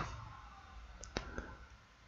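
Two or three light computer mouse clicks while working in the GIMP image editor, crisp and close against a quiet room hiss.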